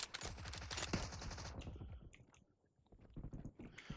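Rapid automatic gunfire rattles in a PUBG Mobile match, a dense burst of closely spaced shots lasting about a second and a half, followed by scattered sharper shots and clicks.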